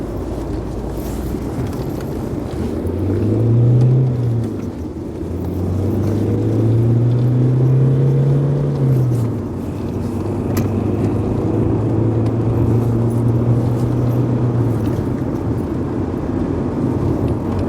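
A Rover 75 car engine hums from inside the cabin, its pitch rising and falling as it revs through the gears, steady road and wind noise underneath.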